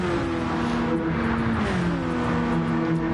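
A race car engine revs steadily in a racing video game during a GTCA Championship Series race, with the engine note winding out and rising across the full stretch, loud and continuous with no talk.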